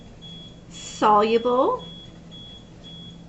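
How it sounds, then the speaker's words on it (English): Fume hood alarm in a chemistry lab sounding a steady high-pitched tone that repeats in long pulses throughout, fairly faint, with a person briefly speaking over it. "Sorry, that hood alarm is going off again."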